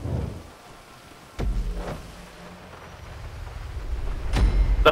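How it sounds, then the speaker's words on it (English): Rain falls steadily in the GTA 5 video game, with low rumbling thunder-like booms and vehicle noise rising beneath it. "Yeah, it's raining."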